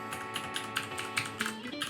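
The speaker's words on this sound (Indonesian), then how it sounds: "hari ini gua lagi make keyboard mechanical TKL dari Sades yang pakai Cherry MX Blue" Rapid clicky keystrokes on a Sades Dragonwolf TKL mechanical keyboard with Cherry MX Blue switches, a steady run of crisp, close taps with slight peaks every quarter second or so, heard alone.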